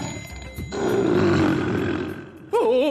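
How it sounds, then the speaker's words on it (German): A lion roar in a children's craft show swells into a loud, sustained growl for about two seconds, then cuts off as a voice begins. "Oh, ein Löwe!"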